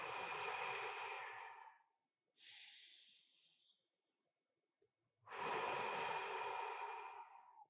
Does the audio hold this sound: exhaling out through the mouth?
yes